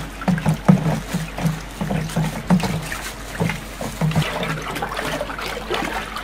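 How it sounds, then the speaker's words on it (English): Liquid soap mixture stirred in a 60-litre batch as it is poured, giving a close, sloshing, swirling water sound with uneven splashy pulses. "as you pour, you stir so that it can quickly dissolve"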